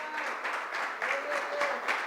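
A church congregation at an Easter Sunday service claps together in a brief, steady round of applause, heard at a moderate distance.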